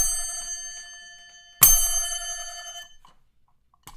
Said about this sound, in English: Does my bell sound funny?